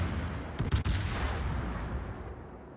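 A cruiser fires a burst salvo in the naval game World of Warships: a quick cluster of two or three sharp gun blasts early on, followed by a rolling, rumbling decay over steady background noise.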